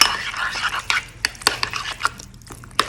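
A sauce being mixed after lemon juice is added for a beef tenderloin dish, with soft, close stirring and light clicks of a utensil against a bowl at an irregular pace.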